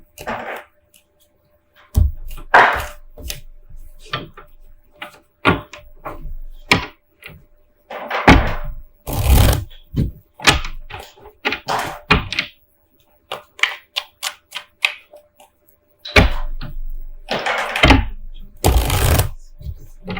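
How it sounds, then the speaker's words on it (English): A toddler bangs toy blocks together nearby, making irregular bursts of hard clacks and knocks with short pauses between them. No one speaks. "Sorry, I have a toddler playing with blocks."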